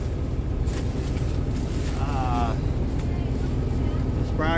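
A farm tractor's engine runs steadily through the whole stretch, a loud continuous rumble out in a chilly field, with people talking over it.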